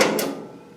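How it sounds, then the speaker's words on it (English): A single sharp metallic strike of a hammer on a center punch, marking hole positions in a steel firewall panel on a 1968 Mustang fastback; close, loud, with a quick decaying ring and no talk. "So I'll take a center punch"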